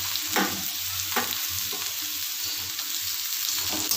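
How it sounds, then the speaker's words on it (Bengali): Chopped banana stem frying with potatoes in a pan while being stirred, a steady close sizzle with scraping spatula strokes at irregular intervals, no talking. "থোরটাকে আমি এবার এর আলুর মধ্যে দিয়ে দিলাম"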